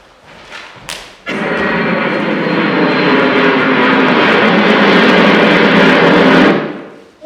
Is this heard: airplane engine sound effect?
yes